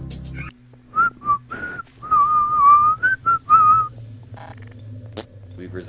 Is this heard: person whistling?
yes